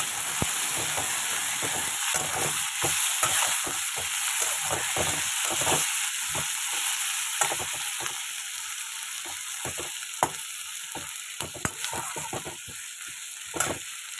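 Potatoes, tomatoes and chopped onions fry in a pan with a steady, close sizzle, broken by frequent short scraping stirs; no one speaks.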